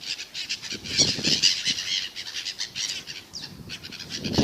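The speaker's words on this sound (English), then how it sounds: "it's not just seagulls, there's a little sparrow or something" Seagulls and a small sparrow-like bird squawk and chirp nearby amid fluttering wing flaps, a busy mix of bright calls and soft whooshes with no talking.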